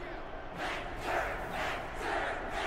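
A city crowd roars and shouts in Ni no Kuni II, a dense mass of voices swelling in rhythmic waves like a chant, loud and sustained.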